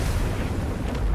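A bomb in Helldivers 2 blowing up after being shot, a loud, dense booming blast with heavy low rumble that stays strong throughout.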